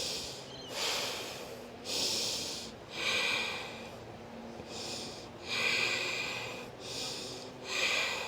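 Deep breathing during a vinyasa yoga flow, with slow rhythmic inhales and exhales close to the mic, about seven breaths that rise and fall in a steady cycle.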